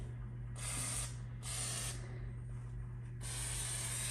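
Three bursts of WD-40 aerosol sprayed into holes in the seat frame of a John Deere X320 lawn tractor with a frozen seat, each hiss lasting about half a second, close and loud over a steady low hum.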